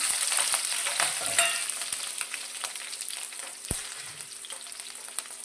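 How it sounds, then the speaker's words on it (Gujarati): Strips of capsicum sauté with cumin in hot oil, a bright close sizzle that settles slightly softer over a few seconds, with light spatters and a single sharp knock partway through. "અને તેને આપણે 1 મિનિટ માટે આ રીતે તેલમાં સાંતળીશું"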